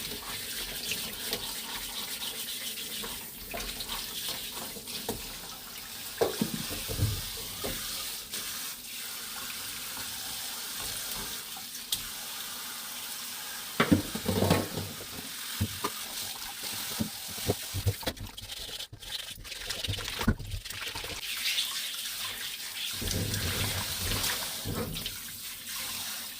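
Radishes are scrubbed with a brush under a running kitchen tap, water splashing steadily into the sink with intermittent scrubbing and clunks.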